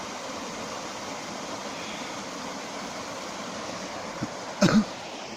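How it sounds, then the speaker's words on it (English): A small waterfall on a burn pours in a steady broadband rush, constant and moderately loud, with a brief knock or cough near the end. "Look at the Bonnie waterfall."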